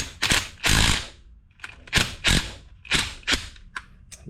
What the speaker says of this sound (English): now I'm going to tighten down on this bolt, and hopefully it'll pull the inner race off